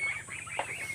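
A farm goose gives a short honking call among other fowl, a single brief note standing out over a steady low background.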